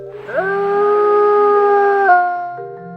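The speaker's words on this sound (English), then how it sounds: "Wolves use their howls to talk to each other, to say where they are, to call the family together" A wolf howls in one long, sustained, clear tone that rises at the start, holds steady, then dips and fades near the end, loud and close with no talking.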